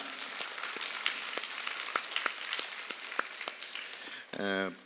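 Sparse, scattered hand claps from a church congregation during a Sunday worship service, faint and irregular, ending with a brief voice.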